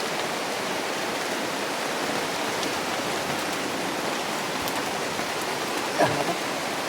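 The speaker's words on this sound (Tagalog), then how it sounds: "Ang lakas talaga ng ulan, no?" Heavy rain in the mountains pours steadily in a dense, even hiss, close and loud, with a brief small knock near the end.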